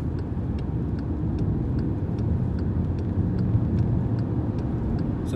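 Steady road rumble and engine drone from inside a car driving a toll highway in New Jersey near the Pennsylvania line, continuous and loud with a faint regular ticking.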